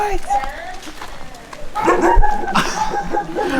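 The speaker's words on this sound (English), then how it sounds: "What kind of bark was that?" A dog found on a hillside in Mexico, still wearing a leash, gives a few yips and whimpering barks up close while excited people talk over it.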